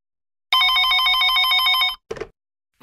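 A telephone bell rings loudly and close for about a second and a half in one steady trilling burst, followed by a brief clatter as the receiver seems to be picked up, then quiet.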